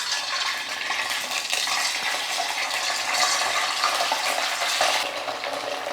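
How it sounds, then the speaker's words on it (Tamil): Pieces of leftover idli frying in hot oil give a steady, dense sizzle with faint crackling and occasional clinks, loud and close, with no one speaking. "எண்ணெயில் ஒன்று ஒன்றா போட்டு பொரிச்சு எடுத்துக்கலாம்."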